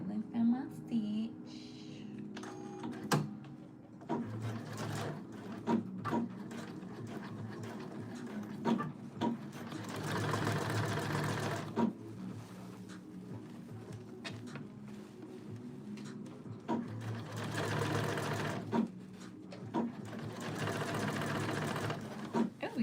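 A sewing machine stitches fabric with the stitch length increased, running in several sustained bursts of whirring separated by pauses, with quieter handling sounds and a voice speaking at times between runs.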